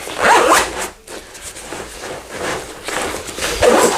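Zipper closing a pocket on an Evergoods Civic Panel Loader 16L backpack: a close, loud rasping zip pulled in a few quick strokes with brief pauses between them, no talking.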